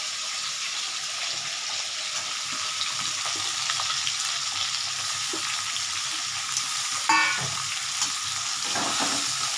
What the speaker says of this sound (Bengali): আলুটা ভাজা হচ্ছে, পেঁয়াজটা ভাজা, রসুন ভাজা হয়ে গেল